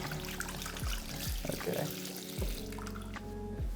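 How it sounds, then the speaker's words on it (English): Water runs from a tap into a sink in a seaside designer home as hands are washed, a steady close splashing stream with shifting gurgles, and one brief spoken word. "These times, you need to wash your hands, so I'll just do that."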